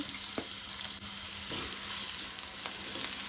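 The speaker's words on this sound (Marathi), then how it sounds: "आता हांव तातूंत कांदो घालता, कांदो आनी मिरसांगो बरोबर घालुया आमी" Onion and green chillies frying in hot oil for a Goan clam curry, giving a steady close sizzle with a few soft clicks and stirs throughout, no voices.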